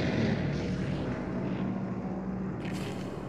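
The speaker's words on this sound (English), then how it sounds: "Plane!" A propeller airplane in the Sniper Elite 4 video game passes overhead with a loud, continuous droning hum that stays steady throughout, with no talk.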